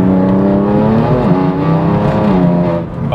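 A BMW M2 Competition's engine revs close and loud, with rising and falling pitch in quick throttle blips and a harsh, aggressive tone that eases off at the end.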